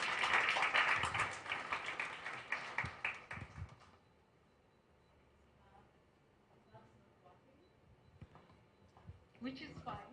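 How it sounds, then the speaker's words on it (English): A round of applause from the audience at a corporate sustainability event, with clapping loud at first and tapering off within four seconds into quiet room noise and a few scattered sounds. "Please give her a round of applause"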